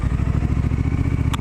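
A Triumph Street Scrambler motorcycle fitted with new exhausts accelerates hard, its engine firing in a rapid, even throb that stays loud and close throughout, with a brief higher clatter near the end.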